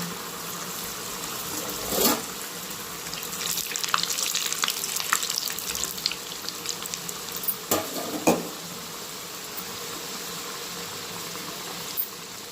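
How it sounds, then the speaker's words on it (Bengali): Coconut pitha fries in shallow oil over low heat, a steady bubbling sizzle with scattered crackles and stirring scrapes, close and moderately loud, no talking. "ভাসা ভাসা তেলে পিঠেটা করলে মুচমুচে হবে"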